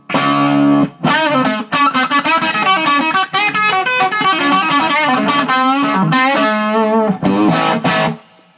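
An electric guitar plays chords and melodic runs through a distorted Hughes & Kettner Tubemeister 36 tube amp head, with reverb tails lingering after notes, loud and close.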